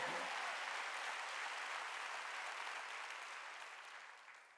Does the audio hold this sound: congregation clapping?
yes